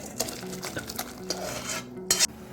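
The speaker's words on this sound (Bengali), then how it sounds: "তারপর খুব ভালো মতো মিক্স করে নিচ্ছি ভাজা মশলাটা চাটনির সাথে" A spoon stirs fried spice mix into raw mango chutney in a kadai, making soft wet scraping strokes and a few sharp metallic clinks against the pan, with a faint sizzle and no voices.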